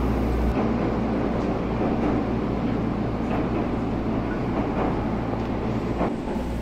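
An Iida Line train runs slowly, heard from inside the carriage as a steady low rumble with faint periodic rail clicks and no voices.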